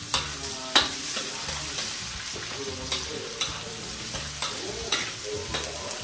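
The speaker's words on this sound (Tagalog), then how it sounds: "So mainit na ang ating mantika, pagsabayin na natin ang sibuyas sa bawang." Chopped onion and garlic sautéing together in hot oil for pansit palabok, a steady close sizzle with regular scraping stirs and a few sharper utensil clicks against the pan, with no voices.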